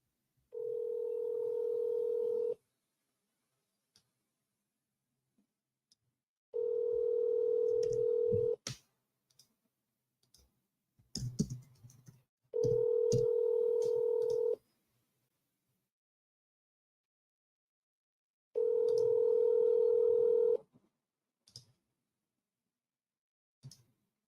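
A telephone call rings out as four long, evenly spaced tones that repeat over the line, with faint clicks and handling noise between them and no talking.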